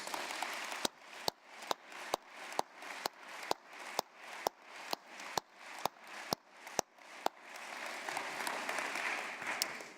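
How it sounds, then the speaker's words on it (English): At a Stanford business school award ceremony, sharp, evenly spaced claps sound over a softer audience applause, and a fuller burst of clapping takes over near the end. "Please join me in giving them a round of applause."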